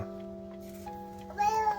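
A cat gives a short meow near the end, after a steady electronic tone plays in the background.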